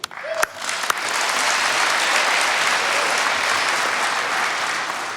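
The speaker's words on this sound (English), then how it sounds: "we applaud you all too" Large banquet audience at a restaurant and chef awards ceremony breaks into loud, sustained applause that swells quickly and holds steady, a dense wash of clapping filling the room.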